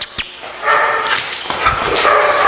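Several dogs bark in short, loud, close bursts, with whimpering between the barks and no talking.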